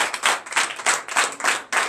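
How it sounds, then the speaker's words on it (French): Many hands clap together in a steady, quick rhythm, loud and close, with no voices, from a congregation at a night deliverance and prophecy church service. "Donnez l'acclamation à l'Éternel pour le Saint-Christ"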